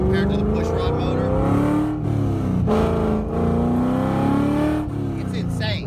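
A loud, light car's engine revs hard and pulls through its gears, rising pitch climbing with brief dips at each shift, close and continuous, while a person talks over it.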